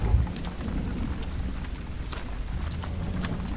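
Steady rain and distant thunder in the horror video game Silent Nights, a constant soft wash of rainfall with faint low rumbles, heard alone without speech.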